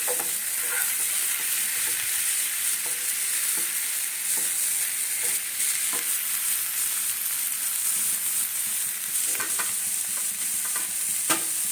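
Paneer being stirred in a hot frying pan, a steady sizzle and fry throughout with repeated scraping stirs and light clinks, close up and with no voices.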